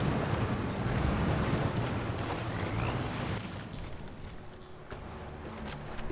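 A heavy truck ploughs through water in the off-road game Snowrunner, with a steady loud wash of splashing and engine rumble that eases slightly toward the end, no talk over it.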